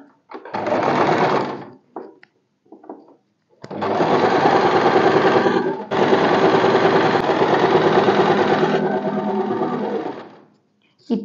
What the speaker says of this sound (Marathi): तर मी तुम्हाला आता स्टिच करून दाखवते